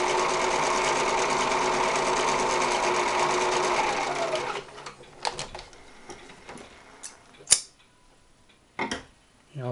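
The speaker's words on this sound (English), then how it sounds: "it will move the fabric back and forth by itself" A Viking 630 sewing machine runs a stretch stitch for about four and a half seconds, a steady close whirring hum with rapid needle ticking, then stops; sparse clicks and handling knocks follow.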